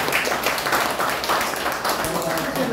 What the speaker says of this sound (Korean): 자, 한번 박수.